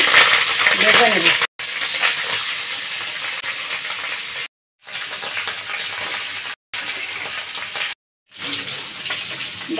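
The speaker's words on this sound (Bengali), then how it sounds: "এখন বাকি মাছগুলো আমি একটু পিট করে ভেজে নেব।" Pangas fish pieces fry in a pan of hot oil with a loud, dense sizzle, broken by several short cuts into silence before the frying resumes.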